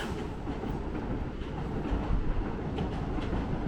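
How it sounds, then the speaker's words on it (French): A metro train passes at night in Osaka, its steady low rumble and rail noise filling the scene with faint clicking wheel sounds throughout and no voices. "je crois que c'est un métro qui passe"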